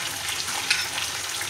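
Curry leaves, dried chilies and shallots fry in hot oil with a steady close sizzle and a few sharper pops, no voices.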